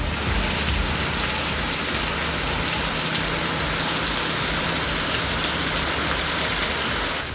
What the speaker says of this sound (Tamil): இடி மின்னலுடன் கனமழை கொட்டி தீர்த்தது